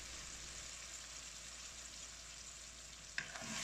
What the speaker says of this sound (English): Stir everything together a little bit.